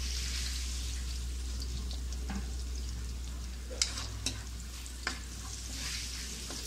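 Garlic sizzles and toasts in a hot pan for pancit bihon, a steady frying hiss broken by a few sharp pops and crackles near the end.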